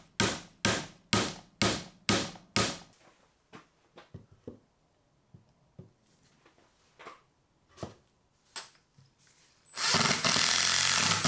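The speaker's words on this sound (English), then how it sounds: "So I'm gonna re-drill these" A power drill re-drills holes in wood for a timber frame awning, running in a series of short, loud bursts, then several quieter tool sounds, ending with a long, steady, loud whir.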